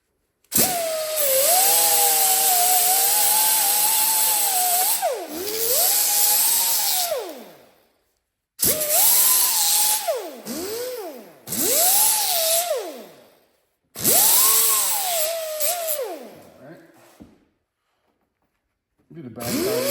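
A power tool cleans a metal washer before it is welded during a custom motorcycle fender build, whining loudly in three long bursts with the pitch sagging and recovering under load, separated by brief silent pauses.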